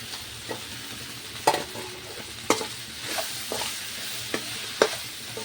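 Okra and tomato fry in a pan while a spoon stirs them. Sharp scraping clacks sound every second or so over a steady, low sizzle close by.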